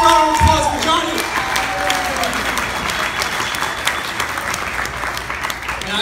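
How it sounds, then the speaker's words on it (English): A wedding crowd claps steadily in sustained applause after a speech, a dense rattle of many hands that holds at an even level throughout. "Let's give a round of applause for Johnny."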